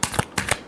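A short run of tarot card shuffling heard up close, four quick papery flicks in an even rhythm with no voices.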